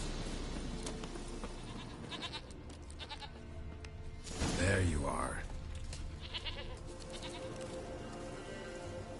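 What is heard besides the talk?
goat bleating in the video game Witcher 3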